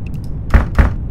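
Two dull wooden thumps, like a locked door being rattled, in the video game Ravenous, spaced about a quarter second apart over faint background ambience.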